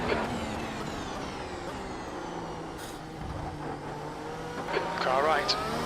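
A race car sweeps alongside in an iRacing sim race at Circuit of the Americas, its engine tone rising and bending steadily over the player's own engine drone, with faint tire noise near the end.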